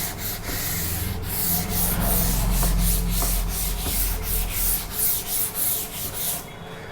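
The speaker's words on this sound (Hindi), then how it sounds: "अब हम इसको रब कर देते हैं।" Erasing equations from a board makes continuous rhythmic scrubbing and rubbing, close and fairly loud, with strokes speeding up toward the end and no talk.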